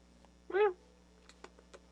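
A cat named Mitten gives a single short, clear meow close by, followed by a few faint soft clicks in an otherwise quiet room.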